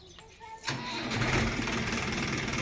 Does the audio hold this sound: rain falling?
no